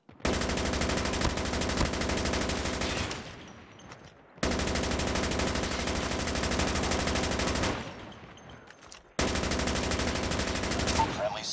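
Automatic sentry gun in Call of Duty Mobile fires loud, sustained bursts of rapid gunfire, three long volleys separated by brief pauses, with a faint game voice in the background.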